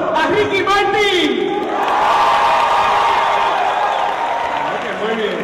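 Audience at Comic Con Puerto Rico 2018 cheering and applauding, a crowd roar with whoops rising after a brief spoken intro and then sustaining.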